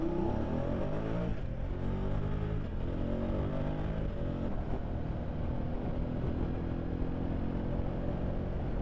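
A 2023 BMW F850 GS Adventure motorcycle's engine pulls at motorway speed, a dense, steady drone that rises in pitch, heard from the rider's position under heavy wind rush.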